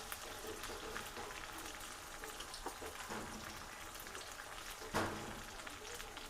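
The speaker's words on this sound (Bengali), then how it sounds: "বাটা মশলাটা প্রায় ভাজা হয়ে গেছে" Spice paste for mutton curry fries steadily in a pan with a soft, even crackle and sizzle, and one brief louder clatter near the end.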